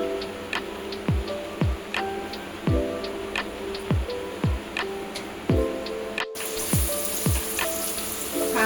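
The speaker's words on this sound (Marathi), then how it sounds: "आता आपण याच्यामध्ये खडा मसाला टाकूया" Whole spices crackle and sizzle in hot oil for a chicken sukha, with a steady frying hiss broken by regular sharp ticking pops and spoon taps, close and fairly loud, briefly cutting out before resuming more brightly.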